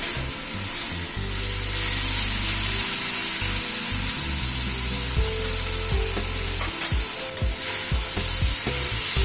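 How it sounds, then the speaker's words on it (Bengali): Grated coconut frying in a pan over a raised gas flame. A loud, close sizzle runs throughout, broken by stirring scrapes, with a low droning hum underneath and no talking. "গ্যাসের ফ্লেমটাকে একটু বাড়িয়ে দিয়ে নারকেল কোড়াটা একটুখানি ভেজে নেব।"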